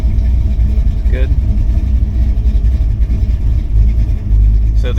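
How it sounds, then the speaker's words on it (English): A Blueprint 383 stroker V8 in a 1980 Camaro idles roughly, a steady low rumbling throb that holds close and loud throughout while someone talks over it. "So it's just trying to maintain the idle right now."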